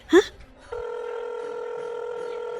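A phone rings during a call placed in a temple shrine, a steady electronic tone held for about two seconds right after a short vocal sound.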